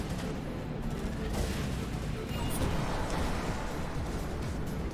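Cannon weapon firing during a BallisticNG anti-gravity racing game, a dense, steady barrage of rapid shots blended with engine roar at constant loudness for the whole stretch.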